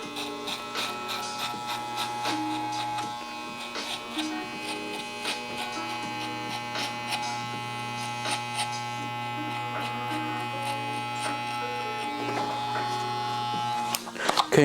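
Electric hair clippers buzz steadily throughout while cutting a low drop fade, a constant close motor hum with small shifts as the blade moves through hair. A voice talks over the buzzing.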